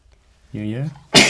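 A single sharp, loud sneeze bursts out right after a short stretch of a person speaking in a classroom lesson.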